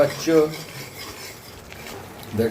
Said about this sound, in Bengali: ভালো করে কষাচ্ছি